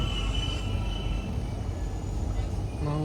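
Metro train at Moscow station on the Almaty metro, a steady loud rumble of rail cars and wheels in an underground station, with faint tonal whines near the end.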